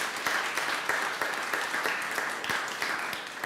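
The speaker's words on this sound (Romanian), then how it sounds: "Vă rog încă o dată să aplaudați vorbitorii noștri de astăzi." An audience at a national youth forum on elections applauds the day's panel speakers. Continuous, even clapping from a sizeable crowd carries on for the whole stretch, with no speech.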